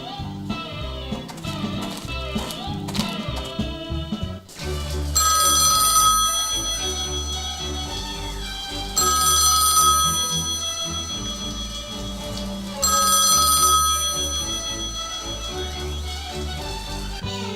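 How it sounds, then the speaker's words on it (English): Telephone ringing in the SpongeBob SquarePants Movie video game: a bright, repeating electronic ring in three long bursts over steady game music, loud and up close, with no talking. "Squidward must not be able to hear the phone for some reason."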